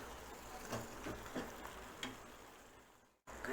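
Brinjal and tomato being sautéed in a pan for thick brinjal thokku. There is a faint, steady sizzle with soft periodic stirring scrapes and a brief dropout near the end.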